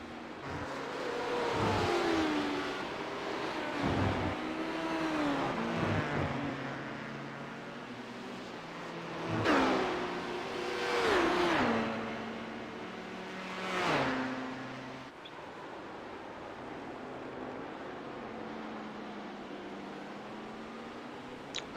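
An LMP1 prototype race car sweeps past on the track at Monza in an endurance racing video game, its engine rising and falling in several loud revving passes with pitch sweeps, then fading away.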